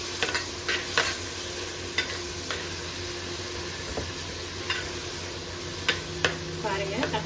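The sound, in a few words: tomatoes sautéing in a pan for fish curry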